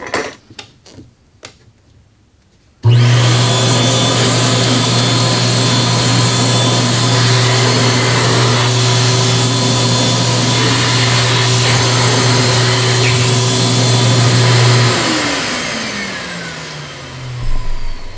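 An upholstery extraction machine cleaning delicate fabric starts after a few soft taps and runs as a loud, steady motor drone with a constant hum, then winds down with falling pitch near the end.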